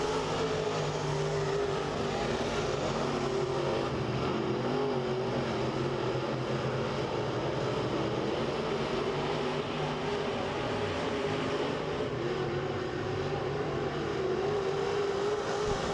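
Race cars in a heat race at Lake of the Ozarks Speedway, a steady loud roar of engines circling the track with continuous droning and revving, no talk.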